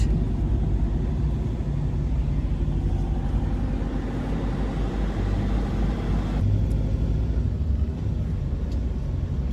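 A vehicle rumbling steadily on a winding mountain road near Stegastein in Norway, a continuous low engine and road drone heard from inside, loud and unbroken throughout.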